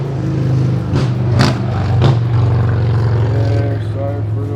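Engine noise from cars driving by outside near a backyard barbecue grill setup, a steady droning hum with a couple of louder passing swells, while someone talks over it.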